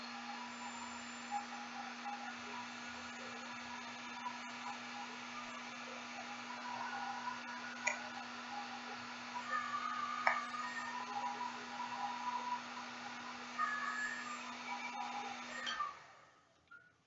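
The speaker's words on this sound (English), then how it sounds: "So we just used a heat gun to kind of speed up the process." A heat gun blows steadily to dry an oil paint wash on Star Wars Legion stormtrooper miniatures, a constant whirring drone with faint clicks that runs for about sixteen seconds, then switches off and winds down.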